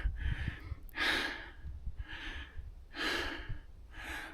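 Heavy gasping breaths from a hiker climbing uphill while fasted, with legs weak; three loud, rhythmic breathy bursts about two seconds apart, close to the microphone, with low rumbling underneath and no talk.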